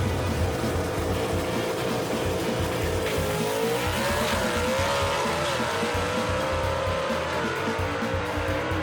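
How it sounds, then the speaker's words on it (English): Gasser drag cars roar down the strip in a race, a loud sustained engine howl with rising and falling pitch sweeps and some tire squeal, dense and continuous throughout. "That is a good drag race right there."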